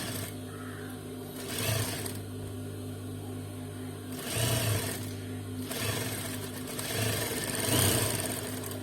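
An electric sewing machine stitches the bottom of an Afghani salwar, running in steady whirring bursts with a low mechanical hum, swelling louder in three stretches and easing between them.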